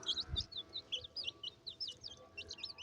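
High-pitched peeping of five chicks repeating quickly and continuously, with a soft low cluck from the mother hen early on.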